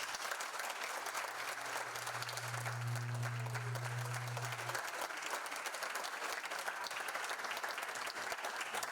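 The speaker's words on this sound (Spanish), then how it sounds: "la palabra para el equipo que está acá es un aplauso" Sustained applause from an audience at a panel discussion on managing protected areas, fairly distant and even throughout, with a steady low hum in the middle.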